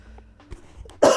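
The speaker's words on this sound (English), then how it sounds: "I still have a nasty cough." A single sharp, loud cough bursts out at the end, preceded by quiet room noise and a few faint knocks.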